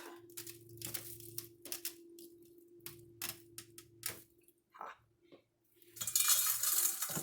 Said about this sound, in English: Peel the trays off.